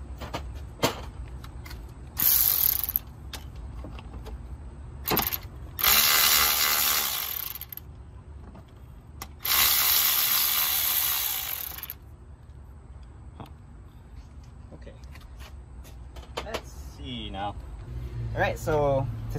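Short bursts of ratchet clicking as a bolt is loosened on a 2006–2007 Honda Accord during starter removal, close and fairly loud, separated by quiet clinks of tools and metal parts.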